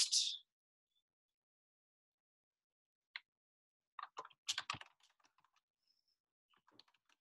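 Computer keyboard typing heard as a few sparse, faint bursts of clicking keystrokes with long quiet gaps between them, close but soft, no talking.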